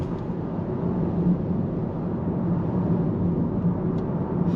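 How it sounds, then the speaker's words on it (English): Wind noise from the wing mirrors of a 2023 Mercedes A-Class at speed: a steady, even cabin rumble and hiss that holds unchanged throughout, with no talking. "there is a little bit of wind noise coming from the wing mirrors"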